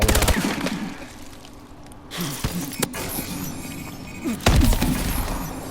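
AMR9 submachine gun fire in Call of Duty Advanced Warfare, a few scattered loud shots and impacts over a noisy game backdrop, close and punchy, with no talking.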